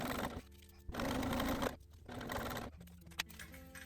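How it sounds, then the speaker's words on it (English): A domestic sewing machine top stitching with a hinge foot fitted, running in loud bursts of steady stitching separated by brief pauses, close up with no talking. "I'm gonna top stitch. I have a hinge foot on and it makes like really weird noises"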